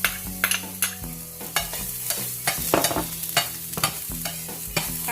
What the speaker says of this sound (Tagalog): sa isang malinis na pan, maglagay ulit tayo ng konting oil, konti lang, para i-fry natin yung ating garlic